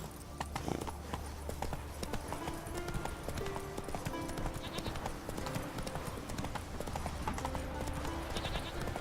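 Horse hooves galloping in the Witcher 3 video game, a steady rapid clip-clop that runs unbroken throughout under dense game ambience, with faint tonal sounds in the background.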